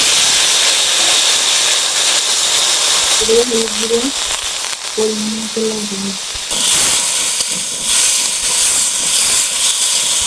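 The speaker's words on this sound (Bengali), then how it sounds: "দিয়ে দেবো সরষের তেল, এখন আলুটা ভেজে নেব।" Potatoes fry in hot mustard oil, giving a steady loud sizzling hiss. Someone speaks briefly over it partway through.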